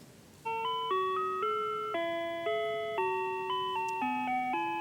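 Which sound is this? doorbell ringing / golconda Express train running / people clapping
doorbell ringing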